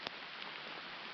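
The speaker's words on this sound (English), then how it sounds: "It's actually raining a little lighter now." Light rain falls steadily during an overnight river float between Tyler Bend and South Maumee, a soft, even hiss with a faint patter of drops and no voices.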